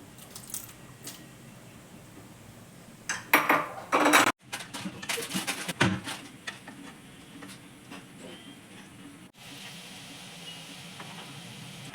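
Rambutan pulp is stirred into caramelized sugar in a pan, with scraping and clinking of a spoon against the pan over a soft sizzle, busiest in a loud burst of stirring midway.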